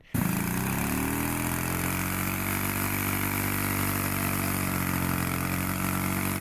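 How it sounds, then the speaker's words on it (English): A small 8 horsepower scooter engine starts up and runs at a steady, buzzy idle close by, loud and continuous with no talking. "So now this engine is technically a 8 horsepower engine"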